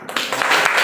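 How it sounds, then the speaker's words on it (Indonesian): A class of students applauding after a quiz answer, a short burst of dense clapping, close and fairly loud, with no talking over it. "kasih aplaus dong"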